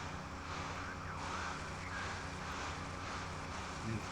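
Police sirens wailing in GTA Vice City during a boat chase with police boats and a helicopter, a steady layered siren drone under engine and water noise, fairly quiet and continuous.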